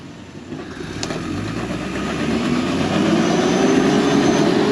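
A 4x4 crawls in low range along a hard off-road track in the Victorian High Country, its engine a steady low rumble that slowly grows louder, with no voices.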